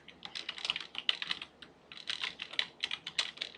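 Fast typing on a computer keyboard, close and clear clusters of light plastic key clicks in uneven bursts with a brief pause midway, no speech over it.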